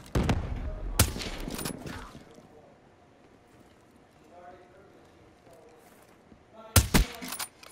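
Sniper rifle shots ring out in the shooter game Black Ops 3, a few sharp cracks near the start and a burst at the end, with quieter game sounds between.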